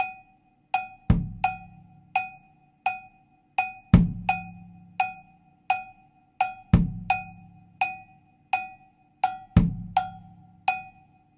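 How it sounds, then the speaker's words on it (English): Cha-cha-cha groove on cowbell with a light bass drum tumbao: steady, evenly spaced metallic cowbell clanks over a soft kick landing once per bar, moderately loud and close, with no voices. "let's play cowbell and bass drum, again with that light bass drum tumbao only"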